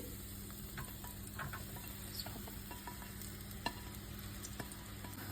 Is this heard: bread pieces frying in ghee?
yes